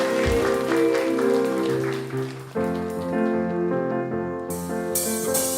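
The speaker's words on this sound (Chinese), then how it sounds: "那么拍掌，把荣耀归给耶稣" A church congregation claps hands together during a Sunday worship service, a steady patter of many hands heard over sustained organ or keyboard chords, moderately loud and continuous.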